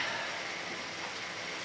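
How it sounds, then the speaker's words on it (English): Heavy rain pours down outside, a dense, steady hiss of drops on surfaces, even and unbroken with no voices. "Yeah, can you hear the rain, folks?"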